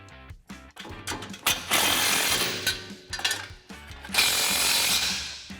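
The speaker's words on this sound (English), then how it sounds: "Now we can grab our 15 socket and wrench and tighten these guys down." A ratchet socket wrench tightening 15 mm exhaust clamp bolts on a 2015-2020 Ford F-150 dual exhaust install, rapid close clicking bursts separated by short pauses, loud and alone.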